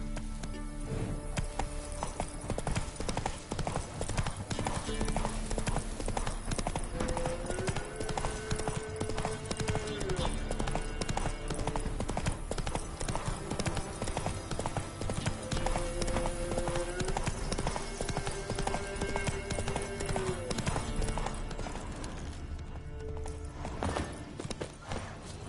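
Roach, the horse in The Witcher 3, gallops with a steady, rapid clip-clop of hooves on the ground, loud and continuous throughout, with a short whinny and game music in the background.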